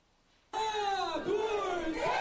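A crowd of company employees at a New Year opening ceremony outside a department store lets out a loud, sustained collective shout, bursting in suddenly after quiet and holding for about two seconds.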